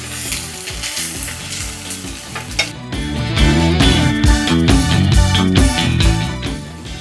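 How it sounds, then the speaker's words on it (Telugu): Ginger garlic paste fries in a pan for a chicken curry, sizzling and spitting continuously up close, growing louder and denser partway through with occasional stirring knocks. "ఇప్పుడు సిమ్లో పెట్టుకొని ఈ అల్లం వెల్లుల్లి పేస్ట్ కొంచెం బాగా వేయించుకున్నాము"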